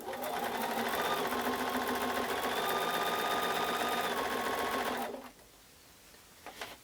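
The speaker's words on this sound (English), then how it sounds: "Chain piecing is where we stitch one right after the other without breaking the thread." A sewing machine stitches fabric pieces one after another without breaking the thread, running a loud, steady, even whir for about five seconds, then stopping with a couple of faint clicks.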